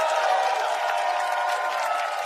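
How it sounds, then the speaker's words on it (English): Outdoor crowd of around 300 people at a peaceful protest march in New York City applauding and cheering, a steady dense wash of clapping that holds at an even level throughout. "Give yourself a round of applause."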